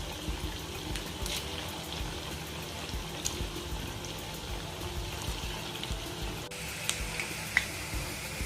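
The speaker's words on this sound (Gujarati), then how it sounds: "મીડિયમ ફ્લેમ પર તળ્યા બાદ ડોનટ્સ જ્યાં સુધી આવા ગોલ્ડન બ્રાઉન ન થાય ત્યાં સુધી તળવાના છે" Semolina donuts deep-frying in medium-hot oil over a medium gas flame give a steady, close hiss with scattered light crackles and pops throughout.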